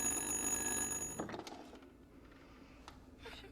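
The ringing of a rotary dial phone in the video game Little Hope, a metallic bell trill lasting just over a second, then cut short with a clunk as the receiver is lifted, followed by faint rattling handling noises.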